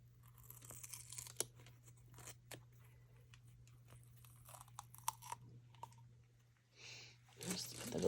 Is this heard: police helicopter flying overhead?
no